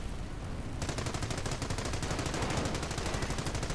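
Rapid gunfire from a sniper match in an OMGmod tournament game, a dense run of evenly spaced shots that starts after a brief quieter moment and continues loud and steady to the end, with no talking.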